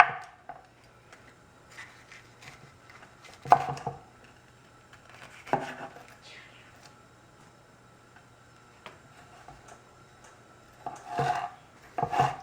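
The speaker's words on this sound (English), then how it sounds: "So I'm going to start chopping these red peppers up." Red peppers being finely chopped with a knife on a board for cranberry pepper jam, giving sparse, irregular taps and scraping strokes at close range, with louder clusters of cuts at intervals and quiet gaps between.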